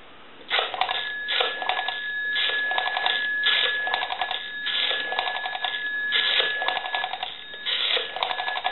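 A Western Electric 202 rotary telephone, under repair, is dialed with its pulses feeding a line analyzer, giving steady bursts of rapid clicking and buzzing tone near and loud, repeating in evenly spaced groups with no talk.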